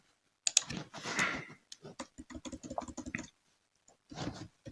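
An activity name is typed on a computer keyboard in project scheduling software, with a quick, close burst of key clicks, a short pause, then a steady run of taps and a final brief flurry.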